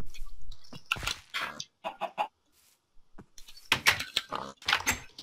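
Chickens on a Minecraft chicken farm give short bursts of game clucks, several in quick succession with brief pauses between them.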